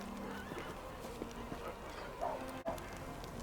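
Horses at a crusader camp in Pathfinder: Wrath of the Righteous, with faint clip-clop hooves and a soft whinny set low in the game's ambient background.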